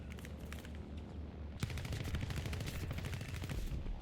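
Three closely mounted 23mm cannons on an I-185 M71 fighter in War Thunder fire in rapid bursts, a dense loud rattle that intensifies partway through and continues steadily to the end.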